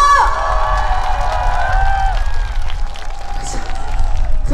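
At a provincial sports festival opening ceremony, a crowd cheers and claps loudly in a large venue, with shouts and a reverberant amplified voice ringing over the noise.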